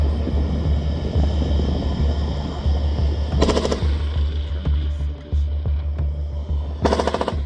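Bursts of automatic gunfire at a Gaza aid site, two short rattling volleys heard over a loud, steady low rumble of engines or machinery, fairly distant and repeating a few seconds apart.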